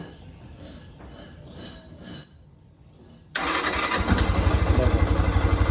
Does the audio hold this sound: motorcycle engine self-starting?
yes